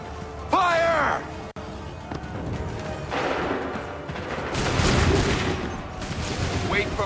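A musket volley in Assassin's Creed 3, with a commanding voice shouting orders and then a loud ragged burst of gunfire followed by rumbling, crackling shots and battle noise.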